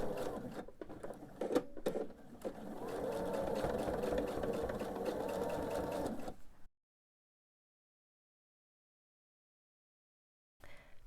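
A sewing machine runs steadily for about six seconds, stitching baby quilt pieces, with a few soft knocks at the start. It then stops, leaving near silence, and a brief burst of running returns at the very end.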